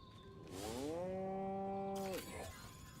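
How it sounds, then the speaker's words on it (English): One long, loud cow moo from the video game Destroy All Humans swells up, holds steady and then drops off, heard alone with faint game ambience. "Moo? Primitive, yet profound."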